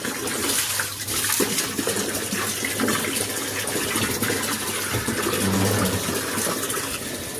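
Water pouring into a household water tank at a home, a continuous rushing and splashing flow that stays loud and steady throughout with no voices over it.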